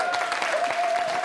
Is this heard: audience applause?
yes